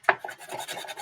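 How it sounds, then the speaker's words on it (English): Hand sanding of wood with sandpaper: a sharp opening rasp followed by several quick, quiet strokes, close and alone. "Do a little bit more sanding."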